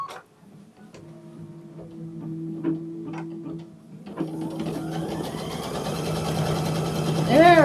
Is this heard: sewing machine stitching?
yes